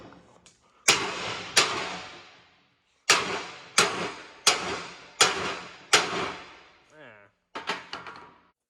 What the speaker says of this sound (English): here's the fun part of putting new studs in these hubs, which is the hammer action